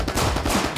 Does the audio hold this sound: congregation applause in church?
no